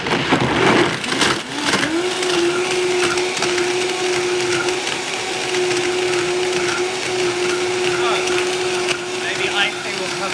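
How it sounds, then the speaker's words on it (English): A high-powered blender whirs steadily as it blends an apple, raspberry and hemp smoothie, starting with a rough grinding burst then settling into a loud, continuous motor roar that holds to the end. "I'm going to blend it in."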